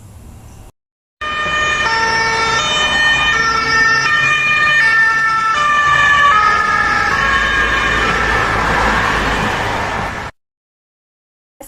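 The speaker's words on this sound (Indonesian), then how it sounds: "saat ambulan menjauhi pendengar, terlihat bahwa gelombang yang terdengar akan lebih jarang" An ambulance siren wails loudly and steadily as the vehicle passes, its pitch sliding lower as it moves away, with traffic rumble underneath and short silences before and after.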